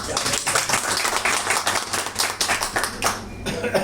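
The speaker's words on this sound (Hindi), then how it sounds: "एक बार तालियां जोरते" An audience claps steadily and fairly loudly at an interview event, a dense patter of many hands that carries on for several seconds.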